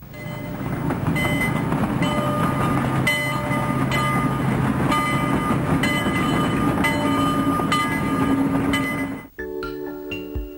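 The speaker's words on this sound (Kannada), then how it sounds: "ಕರಾವಳಿಯಲ್ಲಿ ಮೊದಲ ಬಾರಿ ಚುಕುಬುಕು ಸದ್ದು ಕೇಳಿತು." A train, likely on the Mangalore coastal line, rumbles steadily on its rails for about nine seconds, loud and close, before the noise cuts off abruptly and a different, quieter sound follows.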